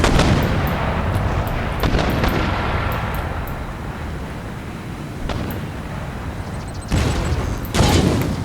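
Mortar and artillery fire rumbles across a battlefield in the video game Empire: Total War, with several heavy booms and sharp blasts landing near and far over a constant roar of distant battle noise.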